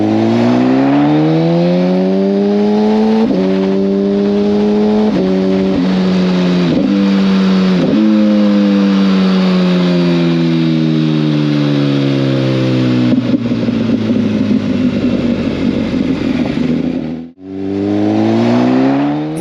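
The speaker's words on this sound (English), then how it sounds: "It's the MV Agusta F4" An MV Agusta F4 motorcycle engine revs hard through repeated rising sweeps and shifts, loud and close, then settles into a rough idle before a brief cut and another climb.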